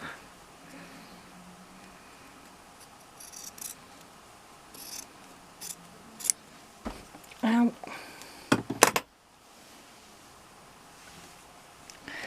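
Scissors trim fabric quilt binding in a handful of quick, crisp snips clustered near the end, close and fairly faint against a quiet room with soft handling rustles.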